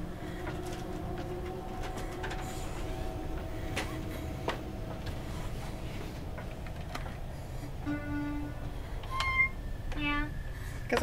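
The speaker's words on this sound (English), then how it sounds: "playing some music on a cat piano" Cat piano from the video game FNAF Security Breach playing meowing notes, quiet and scattered at first, then a quicker run of repeated meow tones near the end, all heard without talk.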